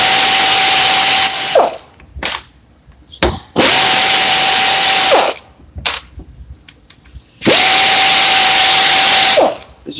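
A power tool, likely an impact wrench, runs loud in three long whirring bursts while pulling bolts from a scrap transmission or transfer case, with short clanks and pauses between runs.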